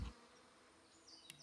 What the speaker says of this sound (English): There's a beehive over here.